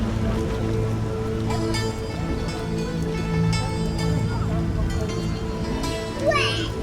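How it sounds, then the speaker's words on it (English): Heavy rain pours in The Witcher, set in the city of Vizima: a constant hiss of downpour fills the background while tonal voices or ambient sounds sit over it throughout. "Raining cats and dogs."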